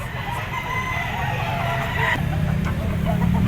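A young gamecock, a stag, clucks and calls at the Lipa poultry auction market, its calls rising over a constant busy background of crowd murmur and nearby traffic.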